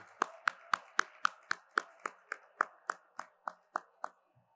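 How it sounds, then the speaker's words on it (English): A single pair of hands claps in a slow, even rhythm at a benefit event in Miami, about fifteen crisp, close claps that gradually soften and then stop, with no other sound. "Let's have a big round of applause for Wissam Katan."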